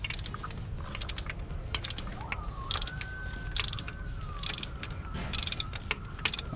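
Ratchet wrench working loose a car spark plug: quick bursts of close, crisp ratcheting clicks in short runs, with a faint mechanical whine in the background and no voices.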